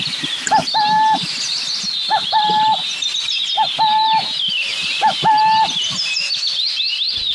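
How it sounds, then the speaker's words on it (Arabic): Owl calls come in a regular series of four short hooting phrases about every one and a half seconds, loud and close, with high twittering birdsong continuing behind them. "البومة المختبئة."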